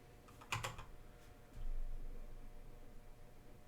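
A short burst of fast keystrokes on a computer keyboard as a search term is typed into photo-editing software, followed by a softer tap or two. The typing is quiet and close over a low background hiss.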